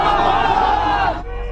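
A crowd of young children in ISIS propaganda footage, gathered to watch an execution on large screens, cheering and shouting together in a loud, sustained chorus that cuts off abruptly.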